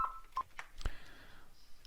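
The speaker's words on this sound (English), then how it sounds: "You may have heard the phone go off then." A telephone going off in a quiet room during modelling work: a few short, faint electronic tones and beeps spaced irregularly, with a soft thump in between.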